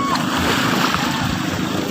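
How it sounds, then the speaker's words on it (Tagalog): A boat engine runs at sea with a steady drone, half buried under rushing wind, splashing water and surf noise. "tumakbo rin yung makina"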